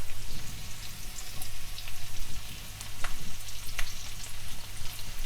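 Fresh ginger and garlic frying in a pan over low to medium heat, a steady soft crackling sizzle with a few faint taps throughout.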